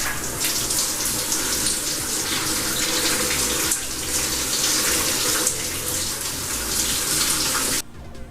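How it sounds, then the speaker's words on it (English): Running water from a bathtub faucet pours steadily over someone's head to soak their hair, a close, continuous broadband gush that stops abruptly just before the end. "I'm just gonna sit under the faucet for a couple more minutes and let it get fully submerged."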